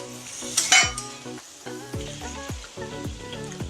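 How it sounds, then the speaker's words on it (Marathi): Soybean chunks frying in oil over low heat, stirred with a metal spoon that scrapes and clinks against the pan in a loose rhythm over a continuous close sizzle. "छान कमी गॅसवरती आपल्याला तेल सुटेपर्यंत हलवत राहायचे"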